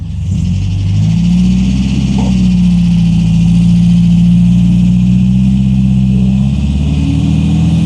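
A classic MGB sports car engine turns over and settles into a steady, loud, throaty idle, close by, with a slight rise in revs partway through.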